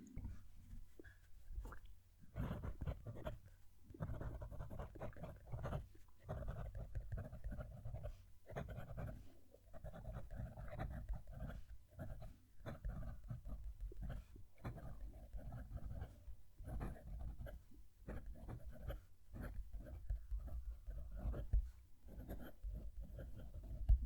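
A Pilot Prera demonstrator fountain pen with a slightly stiff nib writes on paper, giving close, soft scratchy strokes in short rhythmic bursts separated by brief pauses; no talking.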